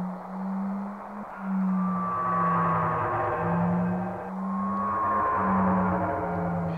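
Eerie ambient drone from Final Fantasy VII known as the cry of the planet, a low steady hum under gliding, whale-like tones that swell and fade, moderately loud and continuous with no voices.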